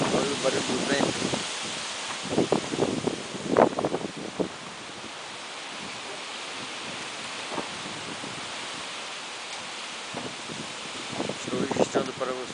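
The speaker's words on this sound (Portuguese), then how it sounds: "Olha o barulho do vento." Loud gusting wind rushes and roars through bending trees during a storm in Sertãozinho, with rustling bursts and buffeting against the microphone as a voice speaks intermittently over it.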